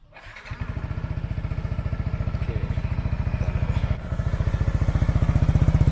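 A modified Yamaha NMax scooter with a dB killer fitted in the exhaust starts up and idles close by, its single-cylinder engine putting out a fast, even, throbbing putter that grows slightly louder toward the end.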